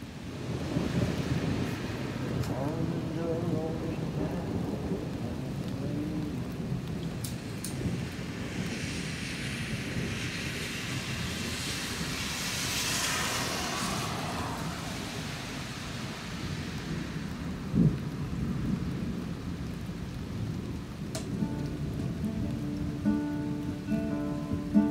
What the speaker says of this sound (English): Can you hear the thunder in the air?